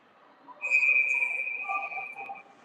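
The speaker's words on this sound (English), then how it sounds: "So whistle goes." A referee's whistle blows at a youth ice hockey game, a single sharp, sustained shrill blast lasting nearly two seconds, fairly close and clear over low arena murmur and faint voices.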